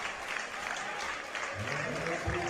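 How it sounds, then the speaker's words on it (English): A crowd at Kilburn Sportsplex claps and cheers steadily after the final whistle of a West Adelaide versus Adelaide United soccer match, with a voice talking low beneath the applause toward the end. "The crowd at Kilburn Sportsplex have something to cheer about"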